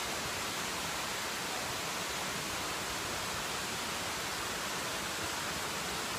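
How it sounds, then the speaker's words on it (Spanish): Steady, broadband rushing water of a river flowing through mountain jungle, an even continuous wash with no breaks, moderately loud and close, no voices. "empezamos a escuchar el río, empezamos a meternos en los sonidos de la montaña, de la selva espectacular"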